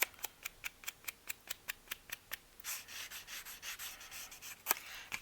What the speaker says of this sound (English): I'm going to go ahead and do the gold rub and buff around the outside edge